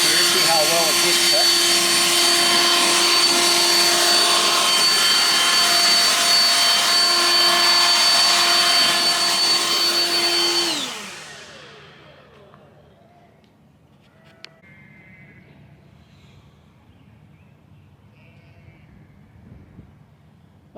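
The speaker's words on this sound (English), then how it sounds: "now we're going to go ahead and try to blow off this edge here" A Black and Decker edger's tool blows off an edge with a loud steady whining roar, close and continuous, then spins down and cuts off about halfway, leaving quiet room noise.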